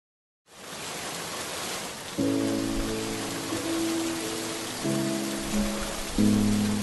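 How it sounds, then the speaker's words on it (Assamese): Steady rain falls with a dense, even hiss that fades in at the start, joined partway through by soft sustained musical tones. "বৰষুণৰ শব্দবোৰ ভাল পাওঁ মই"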